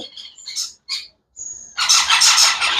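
Indian ringneck parrot chicks, 20 to 25 days old, give sharp, shrill chirps and squawks in short bursts, then a harsh continuous screech rises loudly near the end.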